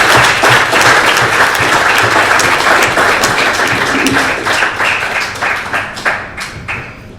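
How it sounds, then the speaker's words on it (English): An audience gives a round of applause: a loud, steady wash of many hands clapping that thins into scattered individual claps as it fades out over the last couple of seconds. "we might give a big round of applause to Matt Clarke"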